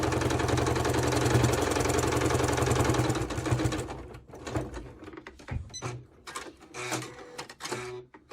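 A sewing machine fitted with a walking foot stitches a line across a quilt block, humming in a steady, loud, rapid mechanical run that then breaks into short stop-start bursts.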